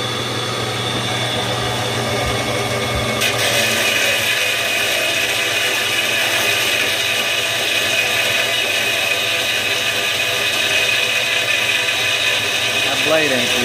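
Band saw cutting through an old steel wrench in a shop, a loud steady motor hum and blade whine running throughout with a grinding rasp as the metal is cut.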